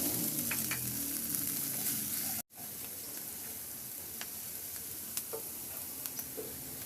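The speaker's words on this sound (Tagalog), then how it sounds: "At igisa ko na yung bawang. Ilagay ko na rin yung sibuyas." Garlic and onion sautéing in butter with a steady, bright sizzle and occasional stirring clicks, close up; the sound cuts out briefly and then continues at a slightly lower, even level.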